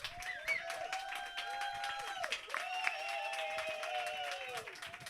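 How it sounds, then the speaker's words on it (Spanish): Audience applause during a cultural variety show, a dense patter of clapping running throughout beneath cheering voices and sustained tonal sounds. "¡Fuerte el aplauso!"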